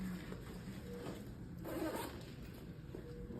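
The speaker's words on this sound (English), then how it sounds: "just zip it all back down" A zipper on a patient bed restraint is drawn closed in a hospital room, a short, faint zipping rasp over quiet room hum.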